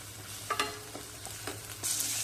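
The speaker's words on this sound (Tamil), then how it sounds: "கொஞ்சம் நேரம் நல்லா ஃப்ரை ஆகட்டும்" Dried anchovies (nethili karuvadu) frying in a pan for thokku, a soft steady sizzle with a few scattered scrapes and taps of a stirring spoon, close but quiet, ending in a brighter burst of hiss, no voices.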